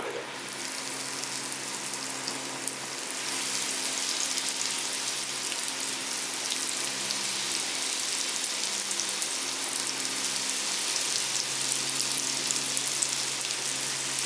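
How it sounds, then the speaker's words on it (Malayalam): Banana flower cutlets deep fry in hot oil, a steady dense crackling sizzle that swells a little after the first few seconds and keeps going evenly and close up, with no talking. "ഇനിയിപ്പോൾ നമുക്കിത് എണ്ണയ്ക്കകത്ത് ഇട്ട് വറുത്തെടുക്കാം."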